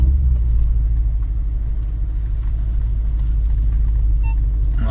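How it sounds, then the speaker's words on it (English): A Kekona V8 car engine in a game gives a deep, steady low rumble, loud and continuous throughout, with faint higher noises near the end. "Sounds like a rocket launcher. It's just the Kekona V8,"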